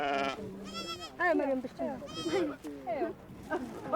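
Goats bleat at a well in the Sahara desert, with several wavering, harmonic cries rising and falling in quick succession, loud and close, overlapping one another.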